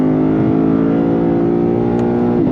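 A Lexus IS 500 F Special Edition V8 revs hard through an Invidia aftermarket exhaust, a loud, steady, rising engine drone that holds for a couple of seconds, then dips briefly as the revs shift.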